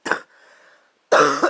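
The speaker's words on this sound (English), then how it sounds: "Cough." A single person coughs twice, a short burst followed by a quiet pause and then a second, louder cough, close up and alone.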